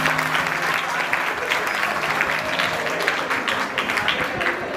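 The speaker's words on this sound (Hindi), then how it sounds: "एक बार जोरदार तालियां" A crowd at a gathering in a Digambar Jain temple in Delhi applauds steadily for several seconds, a dense even clapping at moderate distance.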